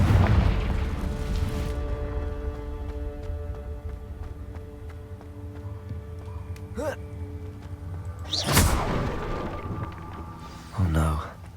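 A Confringo blasting spell detonates in Hogwarts Legacy amid spider-filled surroundings, heard as a loud boom over a low sustained drone, followed by a second punchy burst and a brief later impact.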